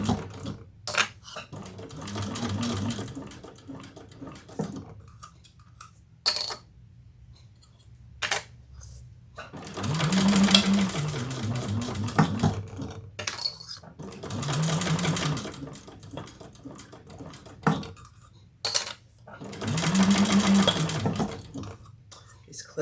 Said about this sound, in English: Clips are getting stuck on my little table. That's what that clicking noise is.